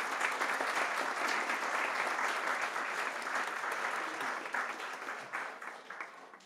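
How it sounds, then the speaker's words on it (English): Round of applause for the Irish United Nations Veterans Association Post 27 honour guard at a homecoming celebration in Portlaoise, steady dense clapping from a crowd that holds for several seconds and then begins to thin out. "Can we give them a round of applause?"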